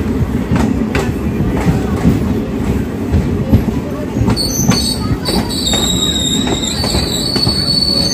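A Hindupur–Guntakal DEMU passenger train runs between Penukonda and Anantapur, its loud steady rumble and rattle carrying on throughout, with high metallic wheel squeals ringing out in the second half.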